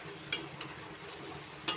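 Paneer and potatoes stir-fried in a pan, a quiet low sizzle with two brief, sharp spatula scrapes a little over a second apart and a faint tap between them.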